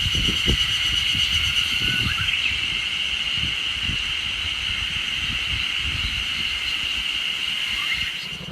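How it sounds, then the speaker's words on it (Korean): A dense, steady high-pitched drone of cicadas and crickets fills the midsummer night air without a break, with faint low rustling and thumps underneath. "한국의 완전 한여름 밤에 시골 농촌에서 나는 그런 매미 울음소리들, 귀뚜라미 울음소리들이 나오고 있어요."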